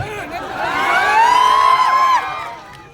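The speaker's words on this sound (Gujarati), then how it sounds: "તને મારા આમ છે ઉપર આવા મારા વાલા જોરદાર તાળી થઈ જાય એના માટે" Crowd at a welcome gathering in Jasdan lets out a burst of cheering and a long rising whoop, loud and close for a couple of seconds before fading back into general hubbub.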